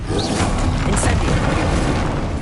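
An Incendio fire spell in Hogwarts Legacy bursts out as a loud, rumbling, roaring blast that fills the whole moment with a dense whoosh and a few brief bright flickers on top.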